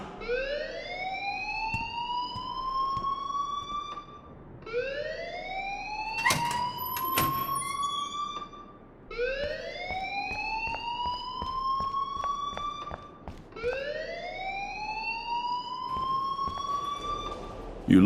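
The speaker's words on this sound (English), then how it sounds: "please turn off that alarm since that's your job" A school alarm in the video game Life Is Strange rings in four long repeating rising electronic whoops, loud and steady, with a brief clatter partway through.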